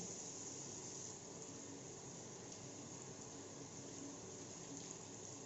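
Tap water runs steadily into a sink during handwashing, a constant soft rushing with no pauses throughout.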